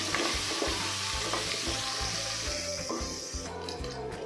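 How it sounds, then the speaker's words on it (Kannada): Crushed garlic, curry leaves and asafoetida fry in hot oil with a steady close sizzle and crackle, accompanied by repeated low thumps and scrapes of stirring, with no talk. "ಚೆನ್ನಾಗಿ ಫ್ರೈ ಮಾಡ್ಕೋಬೇಕು"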